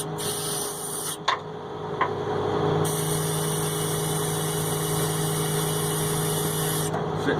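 An International IH 4300 dump and crane truck with a DT466 diesel idles steadily nearby, a continuous low drone with a brief knock or clunk early on before the idle settles into an even hum.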